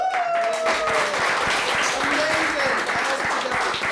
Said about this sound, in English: So when I say clap,